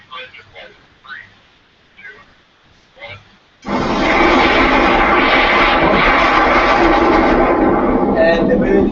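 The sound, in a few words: aircraft taking off from runway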